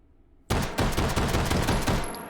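A Luger LP08 pistol with a compensator fires in the VR game H3VR, in a sudden loud burst of rapid shots that starts abruptly after a moment of quiet and then trails off.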